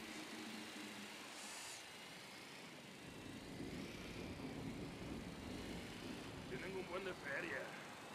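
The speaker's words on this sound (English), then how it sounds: "The drone is up." A surveillance drone in Ghost Recon Wildlands hovers with a faint, steady engine buzz that carries throughout, while voices talk over it.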